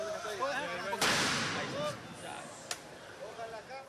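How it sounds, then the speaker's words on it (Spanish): A controlled detonation of a small explosive charge strapped to a man in Guayaquil, heard as one sharp blast followed by a short rumbling tail, with a second fainter crack moments later, amid street noise and voices. "La carga fue detonada de forma controlada"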